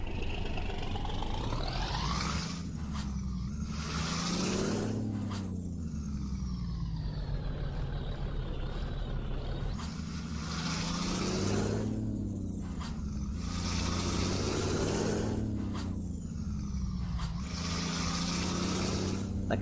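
A Mercedes Atego 2426 truck in a driving game, loaded with 19 tonnes of onions, its diesel engine repeatedly climbing in pitch through the gears with brief drops at each shift, loud and continuous with no voices.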